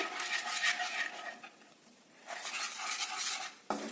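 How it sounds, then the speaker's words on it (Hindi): Milk powder is stirred into milk and ghee in a pan over a low flame: a spoon scrapes and swishes steadily against the pan with a faint sizzle, pausing briefly before resuming, ending with a clink. "अब इसमें 1 कप मिल्क पाउडर डालेंगे, थोड़ा थोड़ा करके डालेंगे और इसको मिक्स करते रहेंगे"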